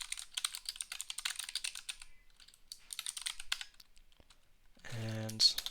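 Quick bursts of keystrokes on a computer keyboard, close and fairly quiet, arriving in uneven runs with brief pauses and ending on a short low thump.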